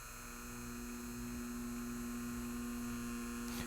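An Inkclaw Tiny Pen tattoo machine fitted with a small 5 round liner needle runs in a steady, close electric hum with a constant buzzing tone, heard alone.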